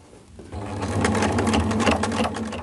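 An overlock serger runs steadily and fairly loud, stitching the rounded neckline of an abaya. The motor hum starts softly and swells after a moment into a continuous buzzing whir.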